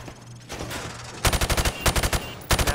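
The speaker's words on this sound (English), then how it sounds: "shoot at the targets while firing from the hip" Rifle fired from the hip at targets on a Call of Duty 4 training range. Near-silence gives way to rapid automatic bursts, loud and close, with several strings of quick shots separated by brief pauses.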